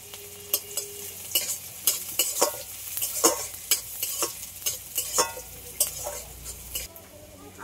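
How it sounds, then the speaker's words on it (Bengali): Chopped onion and green chili fry in hot oil, giving a steady close sizzle broken by sharp, repeated clicks and scrapes of a spoon stirring against the pan. "পেঁয়াজ কুচি আর লঙ্কা কুচি দিয়ে দেবো।"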